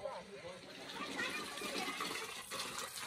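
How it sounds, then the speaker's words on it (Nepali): Spring water gushes continuously from the source at Bagdwar in Shivapuri, a steady rushing flow heard close up while voices murmur over it. "त्यहाँदेखि पानी आइरहेको रहेछ मूल फुटिरहेको रहेछ"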